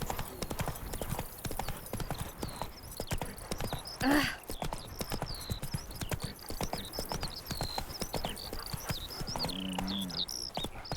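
Hooves of Roach, the horse in The Witcher 3: Wild Hunt, clip-clop in a steady trotting rhythm throughout, with a brief whinny partway through and ambient game background.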